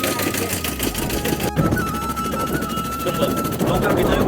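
A speedboat engine runs on open water, a steady close droning whine with a buzzing, rattling edge that holds throughout at constant loudness.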